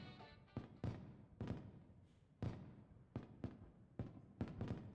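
A fireworks display in a video game, Tokyo Necro, with a series of sharp bursts and booms at irregular intervals, each decaying into a crackling tail, fairly quiet overall with no talk.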